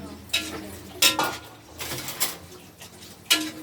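A spoon clinks and scrapes against a pot of arroz valenciana in several irregular strokes over a low bubbling boil, close by.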